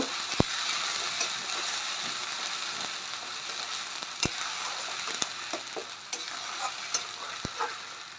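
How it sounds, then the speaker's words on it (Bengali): Onion paste fries in oil in a pan, a soft continuous sizzle with scattered sharp ticks and occasional clacks of a utensil, close but fairly quiet, with no talk. "পেঁয়াজটা আমরা লাল করে ভেজে নেব"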